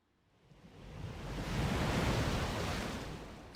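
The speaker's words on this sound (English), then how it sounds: "The waves?" Ocean waves in the Blue Archive video game, one broad wash of surf that swells from quiet to a full rushing roar, then slowly recedes, with no voices over it.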